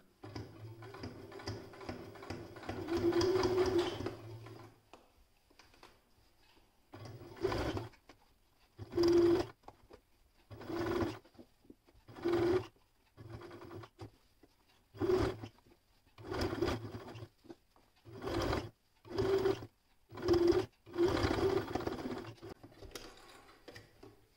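A sewing machine stitches a seam along a lining in repeated bursts of rapid, rhythmic mechanical clatter, each run lasting about a second or two and separated by short pauses, close and fairly loud.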